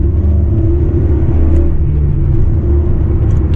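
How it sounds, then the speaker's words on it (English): Honda Civic Type-R FN2 engine pulling at high revs around 5500 RPM as VTEC engages, a loud, steady, deep droning hum heard from inside the car, continuous without breaks or voices. "5500 RPMs, VTEC kicks in, yo, and that's where things get interesting"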